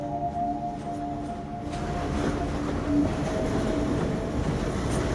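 A train in the video game Half-Life 2 passes with a steady, loud rumbling roar that swells slightly midway, heard alone without talk.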